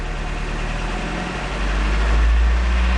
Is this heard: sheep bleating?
no